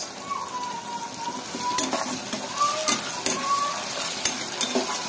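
Sliced onions fry in plenty of oil with bay leaf, cinnamon and cardamom, giving a steady close sizzle broken by the scraping clatter of a spoon stirring the pan, with no talking.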